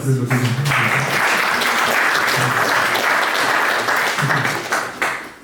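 A church congregation at a Sunday service applauds volunteers, with loud, dense clapping filling the room almost the whole time before thinning near the end, and some voices faintly underneath.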